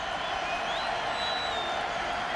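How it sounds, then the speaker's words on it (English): Football stadium crowd in Baltimore at a 2006 Notre Dame versus Navy game, a steady loud roar of cheering voices and applause, continuous and broad with no pauses. "Crowd is up in Baltimore."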